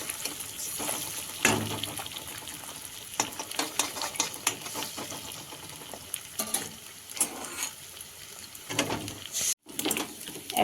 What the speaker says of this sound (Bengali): একবারে পাস্তা সেদ্ধ হচ্ছে, একবারে ডিম ভাজা হচ্ছে।